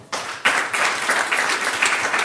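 Brief burst of audience applause at a merchant meeting in Hamtramck, Michigan, starting abruptly and continuing as dense, steady clapping from a nearby crowd for a couple of seconds.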